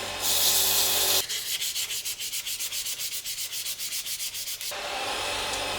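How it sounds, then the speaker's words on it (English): Sandpaper of 400 grit rubs against a wooden pen blank spinning on a lathe, a loud hiss that turns into a rapid pulsing rasp, with steady whirring from the lathe before and after. "turn the lathe back on, go to 400 grit sandpaper"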